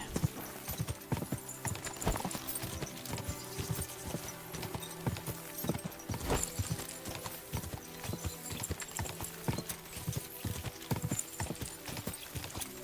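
Continuous rhythmic clip-clop of horse hooves at a brisk pace in the video game Kingdom Come: Deliverance II, close and fairly loud, over a busy background with a brief whinny-like accent.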